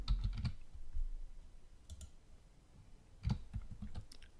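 Bursts of keyboard typing while text is written into a document, quick clusters of clicks at the start and again near the end with quieter scattered keystrokes between, close and unaccompanied by voices.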